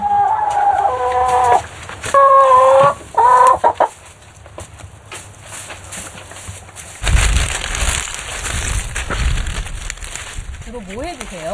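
Chickens cluck close by near a nest in a rural yard, a few distinct bursts early on, followed by quieter ambient noise, rustling and a faint voice or call at the end.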